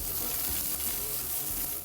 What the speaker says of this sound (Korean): 연탄불 위에 불판 올리고 그 위에 무엇을 올리든 상관없습니다. 지글지글 구워지는 소리에 침이 꿀꺽.